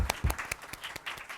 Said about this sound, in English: I request Major General Pavan Anand to kindly come here on stage. Round of applause for Major General Pavan Anand